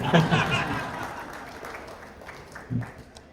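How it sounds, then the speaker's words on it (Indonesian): Brief scattered clapping from the audience at an Indonesian Gerakan Rakyat political gathering, loudest at the start and fading quickly, with a little laughter and a short burst near the end. "Tepuk tangan sekali lagi sama yang bantu bikinin"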